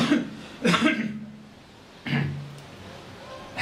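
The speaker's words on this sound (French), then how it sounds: "c'est juste petite toux" Two short, sharp coughs a second or so apart, close to the listener, with quiet between them.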